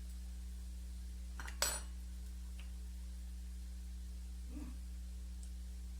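A utensil takes a small piece of breakfast potatoes from a dish with one sharp clink and faint scraping, followed by a softer tap, over a steady electrical hum.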